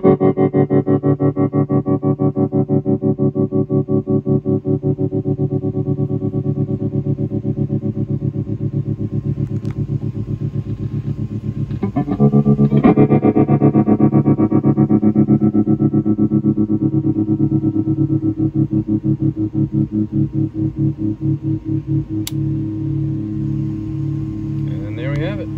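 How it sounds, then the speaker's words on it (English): Electric guitar played through a Valco tremolo circuit on a vintage 5-watt Airline tube amp, sustained chords pulsing in a fast steady throb, getting louder partway through, close and continuous without any talking. "And turn the tremolo on."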